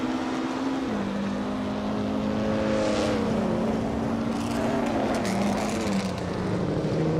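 Race cars roar in a racing video game, a 1950 Ferrari 375 F1 among them, their engines a steady layered drone that rises and dips in pitch as they shift and jockey for position, with no talk.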